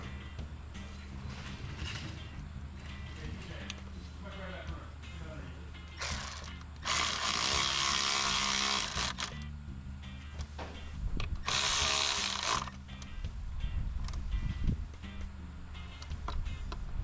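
A bolt is run into a VVT solenoid on a BMW X1 engine with two long bursts of a ratcheting power tool, set among quieter clicks and metal handling. Someone speaks briefly between the bursts.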